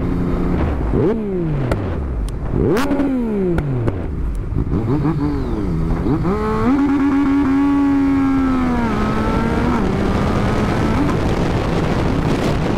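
A Yamaha MT-09 motorcycle being ridden, engine revving in repeated bursts with quick gear changes, then holding a steady roar under wind buffeting, loud and close.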